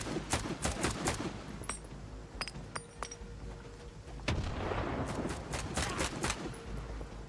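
Gunfire in S.T.A.L.K.E.R. 2: rapid bursts of close, sharp shots with clinking metallic hits, a pause, then another dense volley of shots at steady loudness.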